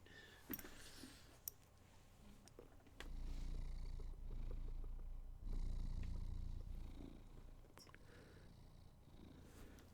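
A white cat purrs quietly at close range, a soft low rumble that swells for a few seconds, fades and swells again, with a few faint clicks scattered around it.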